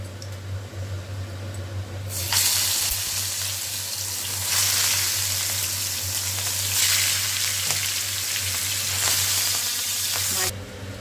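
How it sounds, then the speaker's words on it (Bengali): Fish sizzles loudly in hot oil in a frying pan, the crackle bursting up sharply after a couple of seconds and staying steady and close until it drops near the end. "তেল গরম হয়ে গেছে, মাছ আমি দিয়ে দিচ্ছি।"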